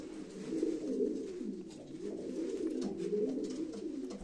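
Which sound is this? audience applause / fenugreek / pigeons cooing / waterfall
pigeons cooing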